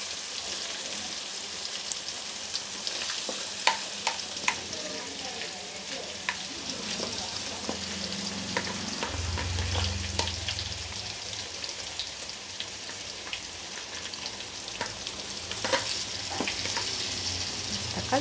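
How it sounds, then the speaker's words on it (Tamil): Onion and ginger garlic paste fry in a pan alongside whole spices for vada curry, a dense rain-like crackling sizzle with occasional sharp pops and stirring sounds, close and continuous. "இப்போது அது நல்லா பொரிஞ்சதும் வெங்காயம் இஞ்சி பூண்டு பேஸ்ட் அப்படியே கூடவே போட்டுருந்தோம்"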